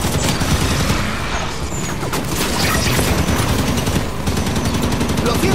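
Heavy gunfire during a Halo 5 battle against a Warhawk, with loud dense bursts of shots and booms layered into a continuous close barrage.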